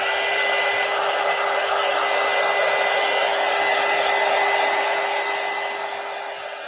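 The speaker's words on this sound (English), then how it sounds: "I don't like to talk over the heat tool." A heat tool blows hot air to dry paint on a steampunk collage box, giving a loud, continuous whirring roar with a steady whine that holds throughout and eases slightly at the end.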